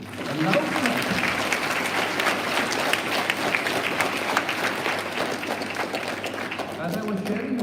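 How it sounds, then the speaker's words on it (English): A school assembly audience claps loudly in a sustained, dense ovation for the principal, steady across the whole stretch with faint voices mixed in. "I think we need to give her a clap today. A loud clap."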